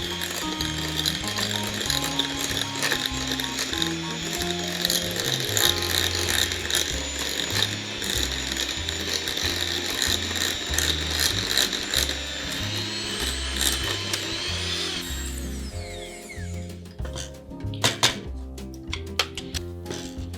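Handheld electric mixer churning seasonings into a raw chicken for stuffed roast chicken, a steady whirring motor drone with rattling mechanical texture running continuously, then cutting off near the end, leaving a few scattered knocks and clatters.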